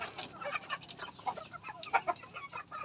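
Free-range chickens and roosters kept on a provincial farm cluck in quick, irregular bursts, with several birds calling close by and layered over one another without pause.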